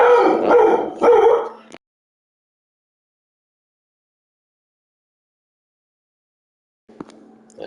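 A pet dog barks several times close to the microphone, set off by a ringing doorbell at home, a short burst of loud yapping followed by silence and a faint sound returning at the end.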